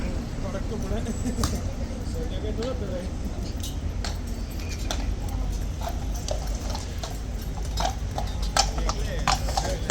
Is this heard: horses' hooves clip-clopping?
yes